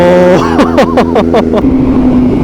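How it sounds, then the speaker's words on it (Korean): A BMW M1000RR superbike engine runs close and loud, blipped in five quick, sharp revs that rise and fall before settling back to a steady idle. "형 시동 한번 걸어줘봐."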